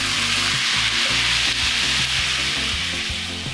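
Red bean and sausage ingredients are sautéed in a pan, making a loud, close sizzle with a steady rasping scrape as the food is stirred and pushed around.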